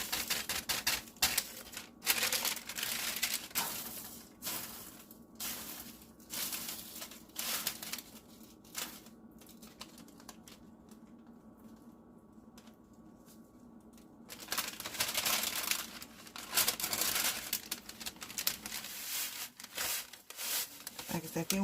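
Parchment paper crinkles and rustles while dried herbs are tipped from it into a jar, quiet crackling bursts with a calmer gap midway, close to the mic.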